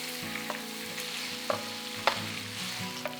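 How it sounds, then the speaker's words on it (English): Boiled pork belly pieces frying in hot vegetable oil, a loud continuous sizzle with occasional spatula scrapes and pops, close up and with no voices. "we're going to dump the boiled pork belly meat from earlier and we're going to cook it until they're nice and"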